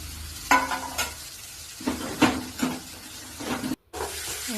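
Beetroot thoran with curry leaves and salt being stirred in a hot pan: a handful of scraping spoon strokes over a soft, steady sizzle, with a brief gap near the end.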